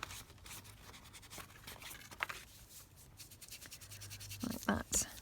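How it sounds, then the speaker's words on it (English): Ink pad rubbed around the edge of a paper envelope, making soft, close scratchy strokes in a quiet room. The rubbing comes in short repeated passes, with a few louder dabs near the end. "I'm just inking sort of around the edge really, rather than all the way around."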